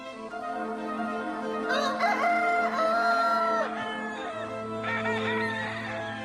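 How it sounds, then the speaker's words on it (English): Several roosters crow in long, stretched calls that overlap and follow one another, clear and fairly close, over a steady low background hum, with no talk. "It's the roosters."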